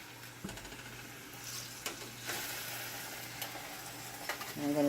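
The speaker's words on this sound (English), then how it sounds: "now I'm going to add my fish in here" Fish fries in a pan with a continuous close sizzle and spatter, with a few soft scraping and stirring knocks, rising slightly louder toward the end; no talking.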